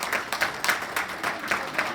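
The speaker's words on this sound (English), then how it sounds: "Please give Kathleen Holmes a big round of applause, ladies and gentlemen." A crowd at a horse breeders' awards evening applauding, with a rhythmic pattern of claps that swells and dips in regular pulses.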